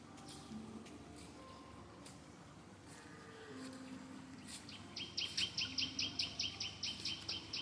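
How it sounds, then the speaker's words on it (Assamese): Birds singing among the branches of a large banyan tree at a Kaziranga resort: faint scattered chirps over low background hum, then a loud, rapid repeating trill of call bursts in the second half. "এই গছৰ ডালত ইমান ধুনীয়া চৰাই মাত মাতি আছে"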